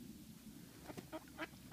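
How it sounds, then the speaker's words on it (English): Ducks on a fishing lake quack in short nasal bursts as they scramble for thrown carp bait, four or five calls in quick succession, faint and somewhat distant over a low steady background. "The ducks went a bit mental trying to get them."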